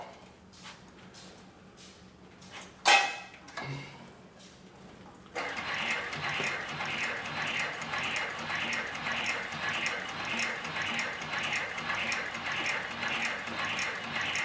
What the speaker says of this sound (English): we'll sew this piece of 10 to 12 ounce leather to the piece of 5 ounce.